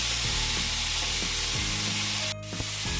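Boiled rice and vegetables tossed together on a hot tawa for street-style pulao, loud continuous sizzling with a steady electric hum and a few spatula scrapes, close up and with no voices.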